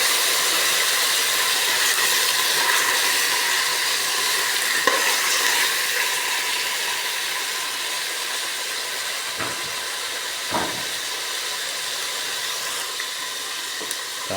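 Squid sautés in a hot pan, throwing off a dense, steady sizzle and hiss for the whole stretch, with a few brief stirring scrapes near the end, close and loud, with no talking.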